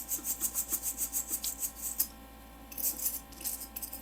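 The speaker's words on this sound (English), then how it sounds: "So use that one to scrape off all the corrosion on the fence." A soft metal brush scraping corrosion off the heatsink fins of an Inno3D RTX 3060 Twin X2 graphics card, rapid rhythmic rasping strokes close up and quiet, pausing briefly before a few more scrubs.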